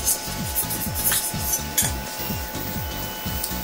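A metal scraper rasps repeatedly across a resin 3D printer build plate, prying off a print from an Anycubic Photon printer in quick, rhythmic strokes, close and fairly loud, with no talking.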